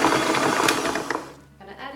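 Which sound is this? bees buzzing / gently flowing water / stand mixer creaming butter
stand mixer creaming butter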